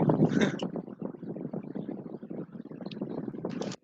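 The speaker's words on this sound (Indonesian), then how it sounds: "Iya, ada anginnya." Wind buffets a microphone on a beach, a loud rumbling roar that swells and dips for several seconds before cutting off abruptly.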